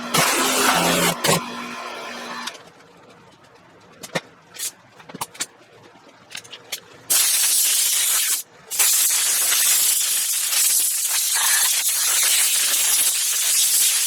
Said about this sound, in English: I'm going to give it a final rinse.